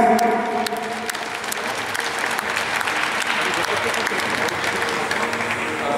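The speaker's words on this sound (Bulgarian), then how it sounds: "Аплодисменти за тях." A crowd at a bench press competition applauds steadily, a dense sustained clatter of many hands that carries on throughout at fairly loud level.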